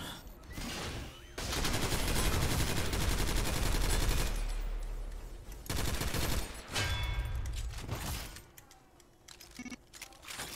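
Rapid bursts of gunfire in the video game SYNTHETIK: Legion Rising, loud and dense, with several volleys separated by brief lulls and a sharp clattering texture throughout.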